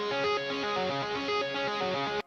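A programmed metal guitar lead played through the Hydra MIDI guitar with tapping articulation, a fast and continuous run of bright, distorted tapped notes in a repeating pattern, loud and heard alone.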